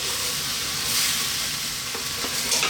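Tofu and beansprouts sizzle and crackle steadily as they are stir-fried in a hot pan for a vegan Chinese dish, with a brief stirring scrape partway through.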